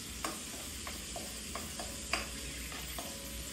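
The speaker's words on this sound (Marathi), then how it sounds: "मीडियम गॅसवरतीच लसूण टाकायचं आहे आणि लसूण हा चांगला लालसर होऊन द्यायचा आहे।" Garlic sizzling steadily in a pan over medium heat while being stirred, with a continuous frying hiss and several sharp, brief scraping clicks of the spoon spread across the stretch, fairly faint and close, no voices.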